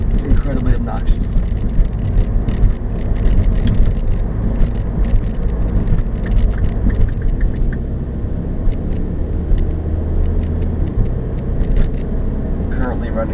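A 2013 Mini Cooper S rolls over rough pavement, its cabin filled with loud, continuous tire roar and low road rumble while someone talks over it.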